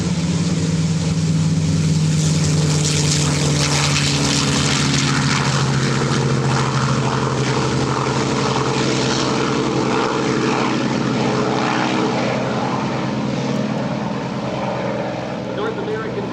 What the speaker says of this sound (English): North American P-51 Mustang, today flown by Yoak and the Chancellor F4U-4 Corsair